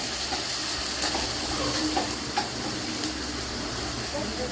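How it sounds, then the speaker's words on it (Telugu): Onions and ginger frying in oil with turmeric in a pan, a steady loud hiss and sizzle close by with a few faint knocks, no voices. "ఆయిల్లో బాగా ఉల్లిపాయలు ఫ్రై అవ్వాలి."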